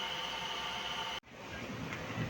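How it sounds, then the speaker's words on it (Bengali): The Ispat Express, an Indian passenger train, rolls into Kharagpur station with a low steady rumble, cut off abruptly for a moment before the rolling noise returns. "ইস্পাত এক্সপ্রেস নির্ধারিত সময়ের থেকে প্রায় 15 মিনিট লেটে খড়গপুর স্টেশনে ঢুকছে"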